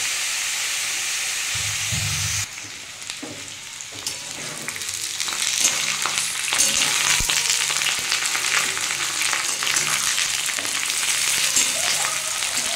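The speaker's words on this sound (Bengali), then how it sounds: "চিকেনগুলো আমি একটু লাল লাল করে ভেজে নেব।" Chicken pieces fry in a pan until reddish, giving a loud steady sizzle with scraping stir noises that swell after a quieter, lower-pitched opening of a couple of seconds.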